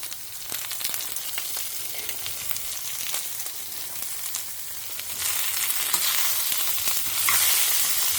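Brinjal sautéing in a pan and being stirred, a steady sizzle broken by repeated scraping strokes, growing louder toward the end, with no voices.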